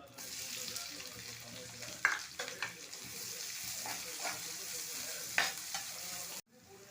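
Sliced big onions sauté in coconut oil with fennel seeds for Chettinad chicken fry. A steady, close sizzle runs throughout, with several sharp clinks and scrapes from stirring.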